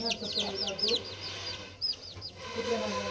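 Chickens cluck and squawk in quick repeated bursts close by on a village farm, several birds calling over a low background hum.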